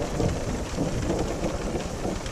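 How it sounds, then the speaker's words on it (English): A thunderstorm rumbles directly overhead during a long, brutal downpour near Panguitch Lake, Utah, with loud steady rain and a low rolling thunderclap blended into the roar, no voices. "Little thunderclap there,"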